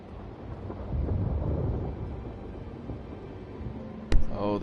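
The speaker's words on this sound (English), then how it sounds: "Oh, the thunder sounds." Thunder in the video game The Wolf Among Us rumbles low and steady for several seconds, then a sharp close crack rings out near the end, with no talking.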